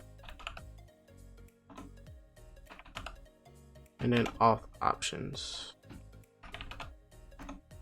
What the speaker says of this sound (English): this new keyboard I really don't like